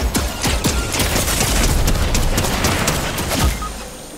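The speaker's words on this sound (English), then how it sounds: "That turret got you." Rapid turret gunfire pours out in Fortnite, a loud dense burst of repeated shots with booming impacts over about four seconds, no talking.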